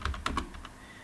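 Typing on a computer keyboard while writing a code comment: a short burst of several crisp key clicks in quick succession, close and fairly quiet, fading out after about half a second.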